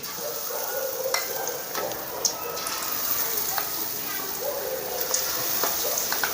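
Onion bhaji frying in hot oil makes a dense, continuous crackling sizzle with scattered sharper pops, steady and fairly loud, while someone talks over it.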